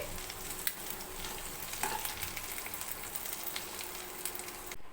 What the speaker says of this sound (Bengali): চিংড়ি মাছগুলো খুব কড়া করে ভাজবো না হালকা করে একটু ভেজে তুলে নেব